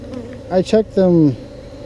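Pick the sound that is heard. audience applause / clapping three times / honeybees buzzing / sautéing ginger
honeybees buzzing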